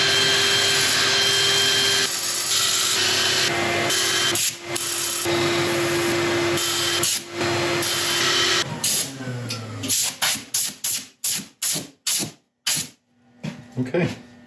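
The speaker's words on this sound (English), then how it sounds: "I'm going to set up for sanding." Black locust and soapstone resin bowl being sanded on a lathe: a steady, loud whirring rub with a constant hum that runs for about nine seconds, then gives way to a string of short, separate bursts as the spinning stops and starts.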